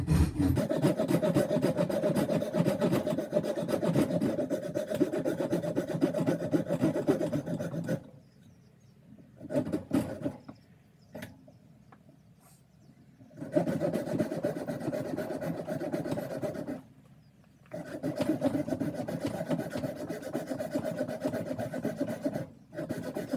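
Hand sawing a cut in an ash axe handle, a steady close rasping stroke rhythm running for several seconds, pausing, then resuming in longer bursts with brief quiet gaps between.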